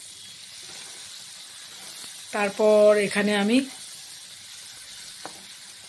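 Chopped onion with a little salt frying in a pan, giving a soft, steady sizzling hiss throughout, with a short stretch of someone speaking over it in the middle.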